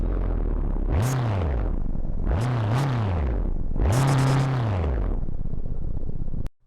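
Modded car engine in BeamNG.drive with custom engine audio revving up loudly three times, each rev rising and falling in pitch, close and alone with no talk.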